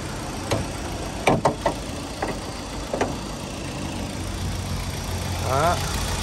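A 2010 Kia Koup 2.0 automatic idles with a low, even engine hum, broken by a few short clicks and knocks, while someone talks nearby.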